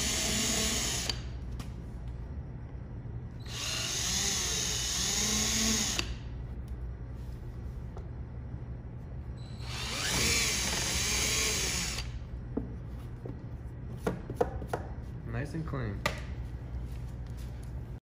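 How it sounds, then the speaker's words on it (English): A power drill whines in two loud bursts of a few seconds each while drilling a pilot hole for a 2016-23 Camaro SS front dive plane, separated by quieter stretches with faint handling noises and clicks. "you do a pilot hole first and then finish with the actual size you need"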